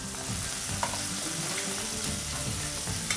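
Bird's eye chilies sizzling in sambal in a pan, loud continuous frying hiss with occasional scraping stirs of a spatula and faint clinks, close up.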